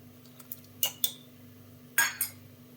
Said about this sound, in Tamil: இது மாதிரி நல்லா கரண்டியில் வச்சு மத்திச்சு விடணும்